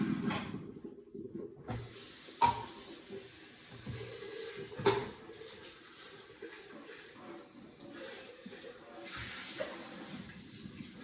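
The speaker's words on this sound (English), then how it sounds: "And then I just rinse it." Tap water running into a sink to rinse out a deluxe cooking blender, a steady low splashing flow with occasional clinks, fairly quiet and continuous.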